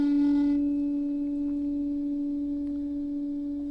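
A large tuning fork rings with a steady, pure sustained tone that starts slightly louder and holds evenly throughout, with no other sounds.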